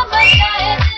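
A person whistles loudly through the lips, a shrill, wavering note held with two rising swells, close and alone without talk.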